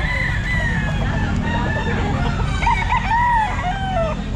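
A bullstag rooster crows loudly and close at the Grotto pet market, its drawn-out call rising over a steady crowd hum and clucking.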